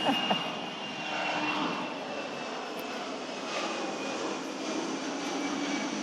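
A Boeing 787-10 Dreamliner on its maiden flight, circling over the final assembly facility in South Carolina, gives a steady, broad jet roar that holds at a fairly constant level throughout, distant and airborne, with no talk.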